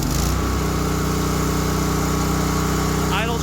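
A Winco HP9000E generator with low compression on cylinder 1 and valve trouble idles back up into a steady, close, loud engine drone with an even, throbbing rhythm, and a voice briefly speaks near the end.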